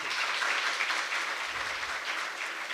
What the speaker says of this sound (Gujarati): આપ સૌની જોરદાર તાળીઓ સાથે